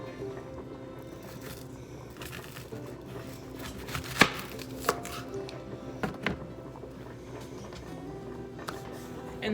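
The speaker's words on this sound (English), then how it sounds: "And we're going to cut off the top of this, just to get this top part off." Knife cutting the top and bottom off a vegetable on a cutting board: a few sharp, distinct chops and knocks, one clearly louder, spaced over a low background hum, close and without talk.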